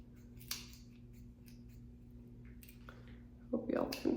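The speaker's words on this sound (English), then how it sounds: "And then point cut again." Scissors point-cut hair in a few quick, close snips, with small clicks scattered across a quiet room and a voice speaking briefly near the end.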